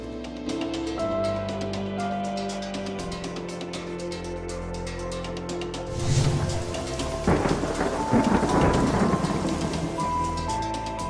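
A thunderstorm with heavy rain in the Sakura School Simulator video game: constant dense rainfall on surfaces throughout, with a deep rolling thunder rumble building about midway and swelling loud over the downpour.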